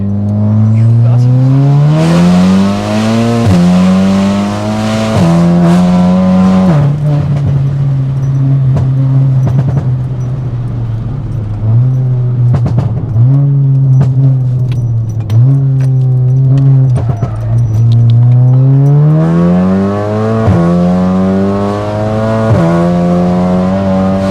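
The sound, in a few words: Volkswagen Golf R 500bhp accelerating and cornering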